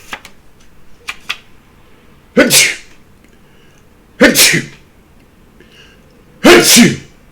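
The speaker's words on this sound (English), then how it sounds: "what does it mean when a person sneezes 3 times?" Three loud sneezes, each a sharp burst, follow one another a couple of seconds apart, with a few faint clicks early on.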